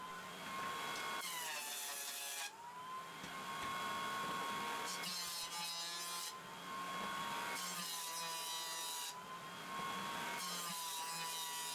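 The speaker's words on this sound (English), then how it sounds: "I cut those on the miter saw" Wood pieces being cut on a miter saw, a loud steady whine that comes in about four long sustained cuts with brief dips between them, close by and alone.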